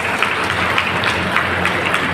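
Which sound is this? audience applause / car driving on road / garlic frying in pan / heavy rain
audience applause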